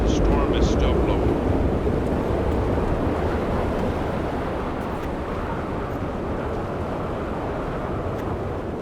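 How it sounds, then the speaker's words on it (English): Storm wind in No Man's Sky blows as a steady, dense roar with a low rumble that stays loud and constant throughout, without pause. "And the storm is still blowing."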